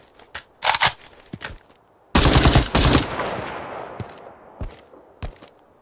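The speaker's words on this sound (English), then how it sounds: "I'm going to pull out my AK here because I'm getting a little bit too close for comfort." AK rifle fire in a video game: loud, close bursts of automatic gunfire with sharp cracks, a long sustained volley in the middle, then scattered single shots and short bursts trailing off.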